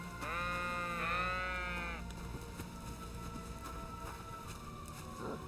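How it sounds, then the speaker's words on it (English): Sheep bleat in the open countryside of the video game Kingdom Come, with one long, wavering bleat up close and then faint ambient rustle and distant animal sounds. "Some sheep, the dog."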